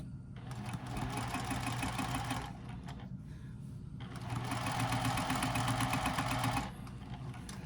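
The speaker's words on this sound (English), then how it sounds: "That's the nice thing about this machine is you can slow it down like that." Sewing machine running at its slowest setting, two long stretches of steady rapid mechanical whirring with a short pause between them, close and clear.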